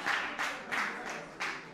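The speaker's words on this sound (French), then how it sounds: "On l'applaudit, s'il vous plaît." An audience applauds, a dense patter of clapping that swells in several waves, moderately faint, with no speech over it.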